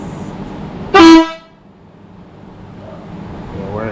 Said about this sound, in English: I'm going to test out the air horn.